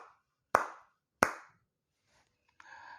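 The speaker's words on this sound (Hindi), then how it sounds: "मिलकर ताली बजाएं" Two sharp, isolated claps ring out about half a second apart, each with a short decay, followed by faint background noise and a brief tonal sound near the end.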